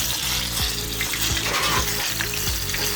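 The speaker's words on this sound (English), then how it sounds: "So I'm going to add my fish to the oil." Fish fries in hot oil in a pot, a loud, dense and continuous crackling sizzle heard close up, with rhythmic bubbling throughout.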